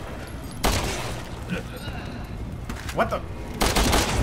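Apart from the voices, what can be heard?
gunfire in the video game Resident Evil 6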